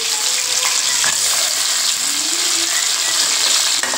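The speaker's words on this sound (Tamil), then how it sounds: "தக்காளி போட்டு நல்லா வதக்குங்க. வெங்காயம் தக்காளி நல்லா வதங்கணுங்க." Tomatoes and onions sauté in a pan for chana masala, making a loud, continuous close-up sizzle of frying with a faint stirring knock or two and no speech.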